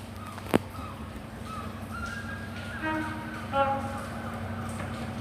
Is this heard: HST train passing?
yes